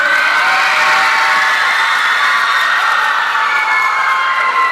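A large audience of teenage girls at a teen summit in Far Rockaway screams, cheers and shouts in a loud, sustained, high-pitched wall of crowd noise that fills the hall without pause.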